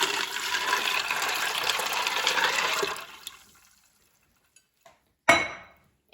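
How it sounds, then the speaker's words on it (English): Five cups of water pour into an Instant Pot holding dried tortellini, a steady close splashing stream that lasts about three seconds, then stops, followed by a couple of faint clicks and a brief knock. "And I'm going to add 5 cups of water."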